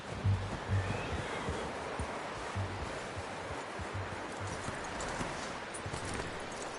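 Horse hooves clip-clopping in Red Dead Redemption 2, a few irregular thuds over a rushing outdoor ambience like water or wind, fairly close and moderately loud.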